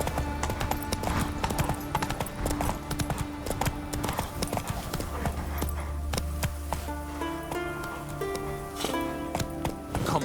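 Roach the horse plods along in The Witcher 3, hooves clip-clopping in a steady rhythm close up, with game music and ambient sounds layered underneath.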